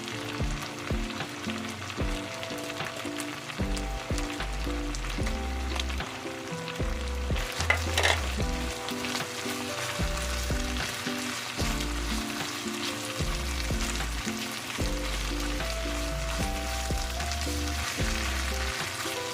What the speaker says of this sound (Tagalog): ilagay ko na yung ating garlic para maluto na rin.